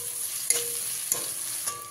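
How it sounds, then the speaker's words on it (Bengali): Green chillies and onion frying in a pan, a steady close sizzle with a few brief stirring scrapes and clicks, no voices. "এবারে কাঁচা লঙ্কা আর পেঁয়াজটাকে ভালো করে ভেজে নিতে হবে।"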